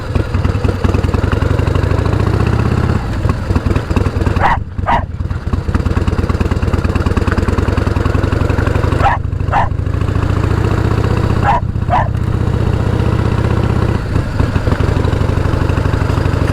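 A 1988 Harley-Davidson Heritage Softail with a sidecar idles steadily up close, a loud continuous low rumble broken by a few short gaps and sharper pops.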